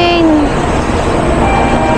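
Shinkansen bullet train pulling out of Kyoto Station, a steady loud rumble and rushing hum with a brief high tone at the start, heard close up.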